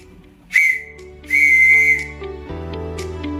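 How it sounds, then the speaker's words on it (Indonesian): Morse code letter A whistled as one short high whistle followed by one long whistle, loud and clear over soft sustained background music. "Adapun bunyi dari huruf A"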